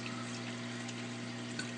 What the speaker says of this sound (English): You can see how the water just flows down over the top of them.